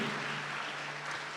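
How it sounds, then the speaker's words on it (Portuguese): A congregation applauds at a Catholic Mass broadcast from a Canção Nova camp, a steady, dense wash of clapping that stays even and moderately close for the whole short stretch. "Aplauda a presença de Jesus."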